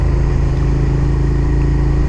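Suzuki SV650S motorcycle with a 72-horsepower V-twin revving to 11,000 rpm, heard while riding: a loud, steady engine drone with wind noise, continuous and close.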